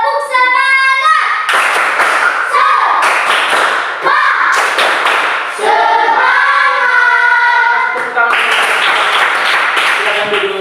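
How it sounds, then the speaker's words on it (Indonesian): A school class does a rhythmic spirit clapping routine, sharp bursts of hand claps and thumps in short patterned groups, with children's voices chanting and singing along between and over the claps. "Tepuk semangat."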